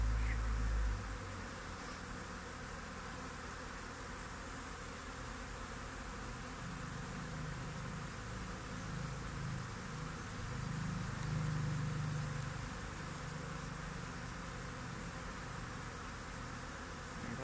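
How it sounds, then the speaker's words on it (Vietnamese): Honeybees buzz steadily around tiered hive boxes housing a few colonies, a continuous droning hum with no talk over it. "Có 3 đàn, mấy đàn ở đây thôi mà ong bay kêu như kiểu là một trại ong nội."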